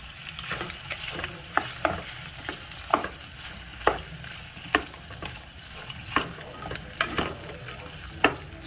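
Cajun smoked sausage frying in oil in a pot is stirred with a utensil, giving repeated scraping knocks every half second or so over a steady close sizzle.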